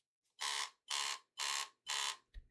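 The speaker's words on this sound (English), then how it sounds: "and a beep, you hear a vibration beep" A power bank's battery indicator gives four evenly spaced buzzing vibration beeps, each about a quarter second long, close and clear against silence, followed by a short final click.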